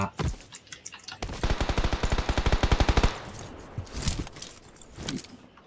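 Rapid automatic gunfire from PUBG fires in a fast, even burst lasting about two seconds, preceded and followed by a few scattered single shots and light clicks, fairly close and clear with no talking.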